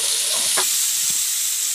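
Ginger garlic paste, green chilli and onion sautéing in a pan for chicken curry, a steady bright sizzle and hiss with a few soft stirring scrapes, close and continuous.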